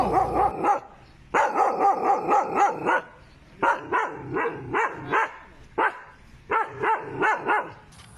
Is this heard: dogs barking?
yes